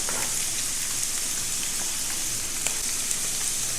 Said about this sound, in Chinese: 炸至像这样子表面金黄就可以了